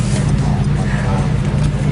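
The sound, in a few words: rally car engine revving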